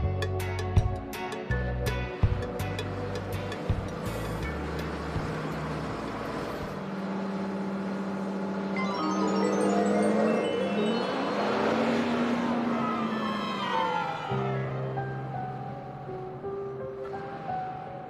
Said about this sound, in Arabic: غرزت السيارة